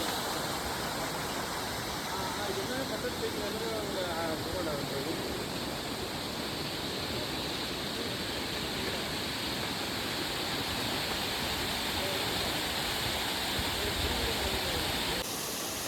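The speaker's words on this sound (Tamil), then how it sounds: "அருவியோட சவுண்டு அப்படியே அழகாக இருக்குது பாருங்கள்" Waterfall near Kutralam by the Kerala border, a steady dense roar of falling water that fills the whole clip with loud broadband rushing and no pauses.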